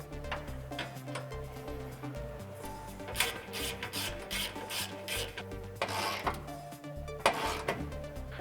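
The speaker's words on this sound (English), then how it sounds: "We're going to begin by removing this 10mm bolt at the top of your ABS bracket." A ratchet works loose a 10mm bolt on the ABS bracket of a 2005-2009 Mustang V6, giving rapid repeated clicking and rasping with a few louder metallic knocks, close and fairly quiet.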